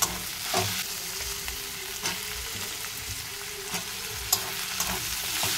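Garlic paste sizzles and fries in a pan, a dense crackling hiss broken by a few sharp stirring clicks and pops, with no talking.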